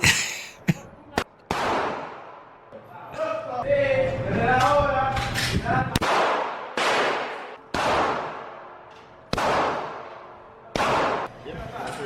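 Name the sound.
gunshots fired at a shooting range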